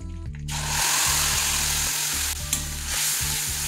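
Yogurt spice mix dropped into hot butter with bay leaf and dried red chillies, bursting into a loud continuous sizzle after a brief quieter start, with rhythmic stirring scrapes and a low hum underneath, no talking.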